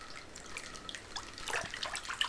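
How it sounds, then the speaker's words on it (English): Water splashes and drips in an irregular, fairly faint patter during a fishing scene. The splashes grow busier toward the end, and no one speaks. "Oh, it's splashing."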